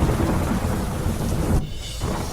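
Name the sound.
rain with thunder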